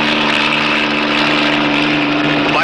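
A Civil Air Patrol search plane drones overhead with a loud, steady propeller engine hum and a slight pitch shift as it passes.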